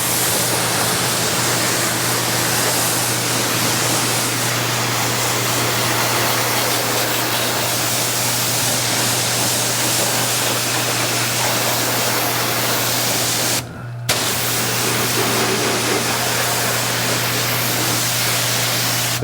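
A steady, loud hiss of water spraying continuously into a Honda S2000 engine bay, with one brief break near the end.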